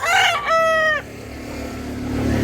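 A gamefowl rooster at a Cebu fowl market crows once, loud and close, its strong harmonic call sliding down over about a second, then fading into a low murmur of background noise.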